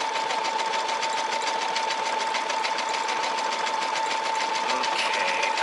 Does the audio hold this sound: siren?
no